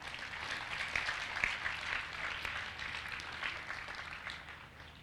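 Sustained audience applause fills a lecture hall during a spiritual lecture series at Parmarth Niketan, a steady dense wash of many hands clapping at moderate volume throughout, with no speech over it.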